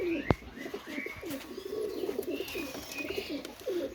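Pakistani teddy pigeon chicks cooing softly in repeated, overlapping low coos, close by and fairly quiet, with a sharp tap near the start and faint chirps above.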